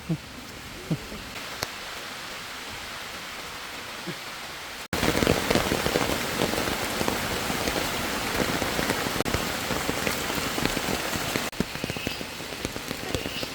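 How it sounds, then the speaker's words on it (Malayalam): Heavy rain pours steadily and loudly in a forest, a dense hiss that grows stronger after a few seconds and continues without pause. "മഴ നമ്മളെ ചതിച്ചു ഗൈസ്"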